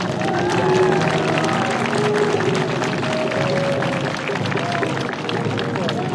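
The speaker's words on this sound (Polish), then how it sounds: "Brawa wielkie dla Sary." Crowd applause and clapping greet a rider at a horse tournament in Grunwald, a steady dense wash of hands and murmuring spectators that fills the whole stretch.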